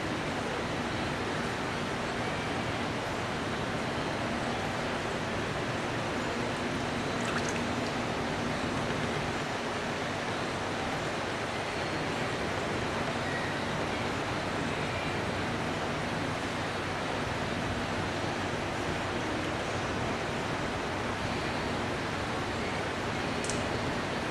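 Steady hand wet sanding of a car bumper, a continuous soft wet hiss and scrub running evenly throughout with no pauses or talk.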